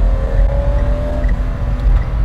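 BMW E30 320i Touring with its naturally aspirated engine pulling hard at high revs, a steady loud drone with a rising tone heard from inside the car, no talk over it.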